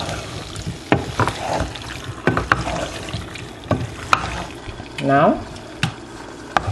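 Carrots, sprouts and baby potatoes fry in a hot pot, a continuous sizzle broken by repeated sharp scrapes and clacks of a stirring utensil, with one brief spoken word.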